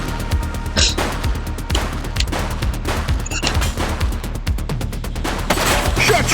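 Gunfire in the police game The Precinct, repeated loud sharp shots and rapid bursts cracking throughout, with faint voices underneath.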